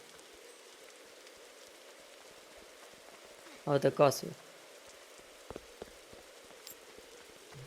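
Steady light rain patters in a Roblox Disaster Island survival game in the background throughout, with a brief spoken remark cutting in midway and a few faint taps afterward.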